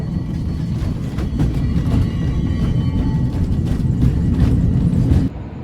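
The Angels Flight funicular railway car in Los Angeles makes a steady low rumble with faint rattling as it climbs. The sound continues for about five seconds and then drops off abruptly.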